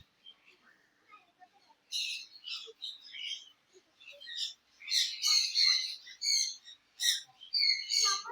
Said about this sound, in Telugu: ఫుల్గా ఇదంతా బర్డ్స్ ఉన్నాయి